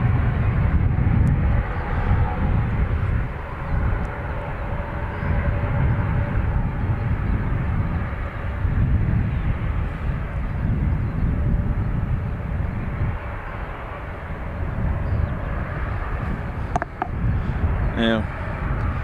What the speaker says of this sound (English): Lufthansa from Frankfurt next.